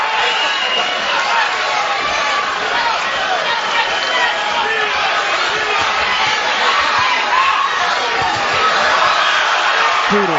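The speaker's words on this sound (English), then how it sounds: "The crowd going crazy here" Boxing arena crowd during a bout, a loud continuous roar of cheering and shouting that swells and holds throughout, dense and close with no break.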